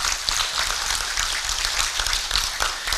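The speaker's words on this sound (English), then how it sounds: "I'm persuaded Waziri deserves a bigger round of applause." An audience at a Kenya School of Government event claps for Waziri in a dense, continuous round of applause, heard without any voices.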